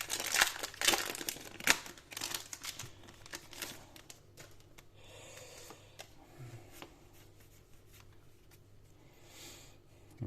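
Crinkly foil wrapper of a Pokémon card booster pack being torn open and crumpled close up, loud crackling bursts at first, then quieter rustling and handling.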